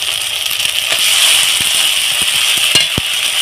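Ginger garlic paste frying in hot oil for a fish head curry with potatoes, a steady close sizzle with a few light spoon taps and clicks scattered through it.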